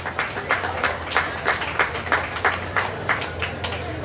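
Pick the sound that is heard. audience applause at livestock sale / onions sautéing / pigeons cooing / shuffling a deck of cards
audience applause at livestock sale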